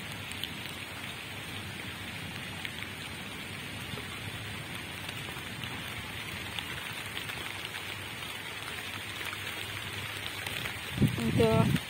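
Steady rain falls on a Bangladeshi village after a stretch of intense heat, a constant close hiss of drops on surfaces that lasts throughout and swells slightly louder near the end.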